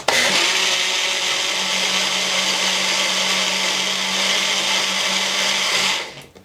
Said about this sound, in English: I gave up my blender to use the bullet